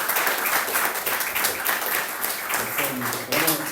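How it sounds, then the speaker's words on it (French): A church congregation applauds together during a French-language Sunday service, a dense steady wash of clapping that lasts throughout, with voices mixed in and a voice rising near the end. "on peut applaudir au Seigneur, à notre Seigneur qui nous a donné ce moment incroyable."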